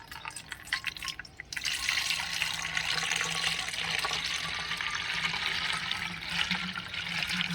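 Filtered plant fertilizer solution pours steadily and continuously into a filter with a bright splashing trickle, close by, lasting several seconds with no talking.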